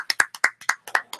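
Studio applause sound effect heard as a short burst of sharp, evenly spaced claps, about eight distinct hits in quick rhythm, close and dry with no voices.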